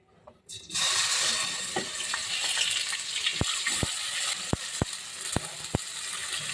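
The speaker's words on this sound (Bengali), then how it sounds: "তেলও গরম হয়ে গিয়েছে এখন আমি দুই টেবিল চামচ পেঁয়াজ বাটা আর এক চা চামচ রসুন বাটা দিয়ে দিব" Onion and garlic paste hitting hot oil: a sudden loud sizzle bursts in after a moment of quiet and holds steady, with several sharp taps of a spoon on the pan toward the end.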